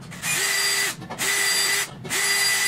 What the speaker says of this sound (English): I'm gonna make some starter holes